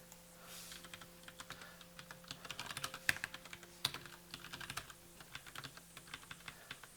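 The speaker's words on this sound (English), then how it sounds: "I'm going to start typing and making mistakes, aren't I?" Continuous typing on a computer keyboard, irregular clusters of quick clicks and key taps at close range, moderately quiet, with no speech over it.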